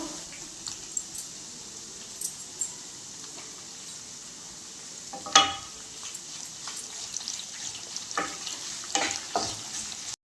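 Onion, green chillies, dried chillies and curry leaves fry in oil, a soft, steady sizzle with scattered stirring clicks and one sharper scrape near the middle, all fairly quiet and without talk.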